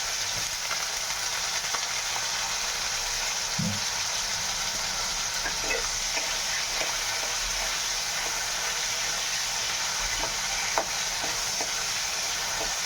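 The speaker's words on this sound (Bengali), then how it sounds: "এরপরে আলুগুলো ভাজতে দিই।" Potatoes fry in hot oil with a constant dense sizzle, broken now and then by faint stirring clicks, no talking.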